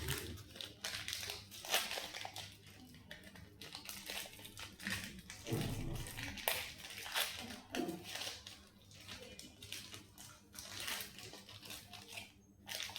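Plastic packaging on a crunchy-topped vanilla yogurt-style dessert being opened and cut, with faint crinkling and crushing rustles close by, quiet and continuous.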